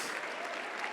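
Steady, dense applause from a church congregation at a Sunday service, loud and continuous throughout with no pauses.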